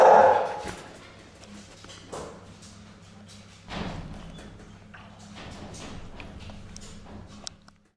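A dog makes a few short barks or yelps with scattered thumps and shuffling, heard close in a quiet room.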